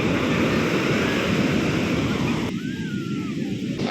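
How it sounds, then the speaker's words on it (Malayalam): Tall waves surge onto Alappuzha beach in Kerala, filling the air with a loud, continuous surf roar mixed with buffeting wind noise on the microphone, with no break. "രണ്ടാൾ പൊക്കത്തിലൊക്കെയാണ് തിരമാല വരുന്നത്"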